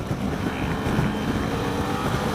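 BMW F 800 GS Adventure motorcycle at full throttle in fourth gear, a steady roaring engine note mixed with heavy wind rush, sustained throughout.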